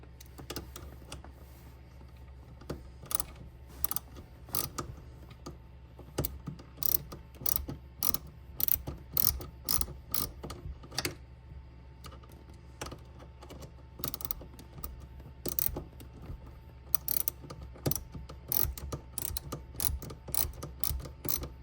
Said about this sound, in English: Now we put the ratchet back on this guy.